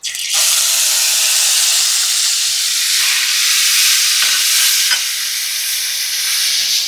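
Spices with galangal, oyster sauce and bird's-eye chili stir-frying in a hot pan, a loud, steady hiss and sizzle running throughout with a few faint clinks of stirring.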